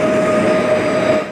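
A passing train on a Koleje Śląskie line in Silesia, a steady loud rumble with a sustained metallic whine, close and continuous, no voices.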